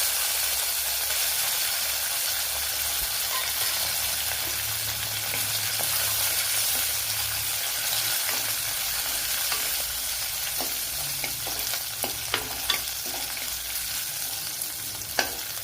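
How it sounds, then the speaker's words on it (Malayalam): Crushed ginger, garlic, green chilli and curry leaves sauté in a pan with a steady close sizzle and crackle, broken near the end by a few sharp spatula stirs and scrapes; no talking. "ഇനി ഇതൊന്ന് നല്ലതുപോലെ ഒന്ന് വഴണ്ടു വരണം"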